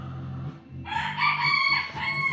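A pet rooster crows once nearby, a loud, strained drawn-out call rising after a short low clucking start and holding for over a second before trailing off.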